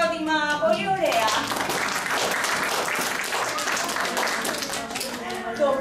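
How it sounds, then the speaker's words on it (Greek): Steady, dense applause from an audience fills the hall for several seconds, with a voice heard briefly over the start of the clapping. "Ένα χειροκρότημα!"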